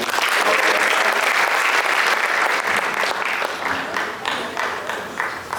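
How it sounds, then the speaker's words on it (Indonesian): Applause from a concert audience for the musicians at an evening church prayer concert, a thick, sustained wash of many hands clapping that gradually thins toward the end. "Tepuk tangan dulu buat pemain musik."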